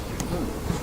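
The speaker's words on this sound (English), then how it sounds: "Bunch of happy bees." Honey bees in a hive, a brood frame lifted out, give off a steady, close buzzing drone that holds evenly throughout with no voices over it.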